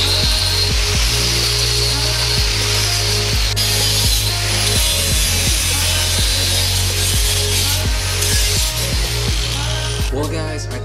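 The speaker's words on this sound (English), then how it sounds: "Get into grinding." A power grinder working on a go-kart bumper for a 212cc kart, a loud continuous whine with shifting pitch and rhythmic pulsing as the tool bears on the metal.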